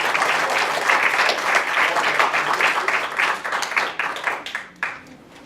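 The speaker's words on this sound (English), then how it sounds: "Give a round of applause to Gene" An audience at a library benefit storytelling night gives a round of applause to a speaker named Gene, producing dense, loud clapping that holds steady and then tapers off toward the end.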